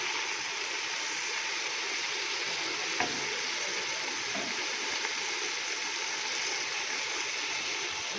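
Water splashes into a pan of frying white chickpeas, setting off a loud, steady sizzle and bubbling hiss that carries on without a break and with no talking.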